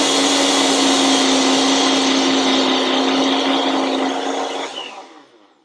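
A kitchen blender roars steadily at high speed while blending flour for gingerbread cookies, loud and close, then winds down and stops near the end.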